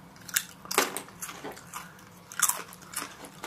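Crunching on homemade fried potato chips, close and fairly quiet: a series of sharp, crisp bites and crackly chews in irregular bursts, with no talk.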